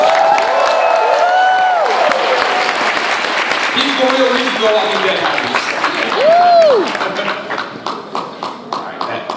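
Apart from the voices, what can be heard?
audience applause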